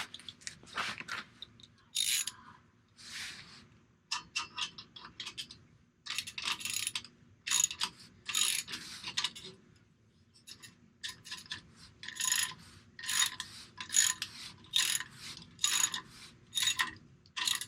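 Clamp on a chrome exhaust tip being tightened on a Toyota Tundra, heard as bursts of close ratcheting clicks that start and stop in irregular runs with short pauses between, no talking.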